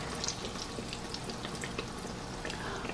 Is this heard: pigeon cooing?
no